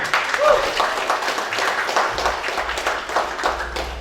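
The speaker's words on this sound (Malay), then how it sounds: "Kita beri satu tepukan paling gemuruh untuk orang Dumai." A full-house audience at a business preview event in Dumai, Indonesia, claps in a broad continuous wash of applause, with low rumbling crowd noise underneath throughout.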